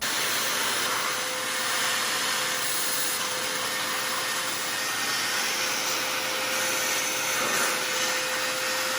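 A walnut blasting vacuum draws carbon out of the intake valves of a Mazdaspeed 3, a loud continuous whooshing roar with a steady whine that holds throughout without pause, close up and with no talking.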